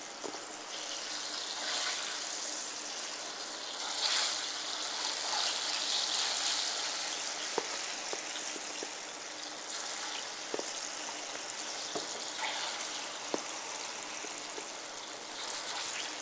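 Plantains fry in a pan of oil with a steady, fairly quiet hiss and bubbling, and several faint clicks and taps are scattered through. No one talks.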